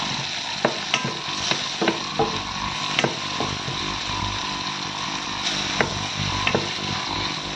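Leeks and garlic sautéing in a pan: a steady sizzle runs throughout, broken by a few sharp utensil clacks from stirring. No one speaks.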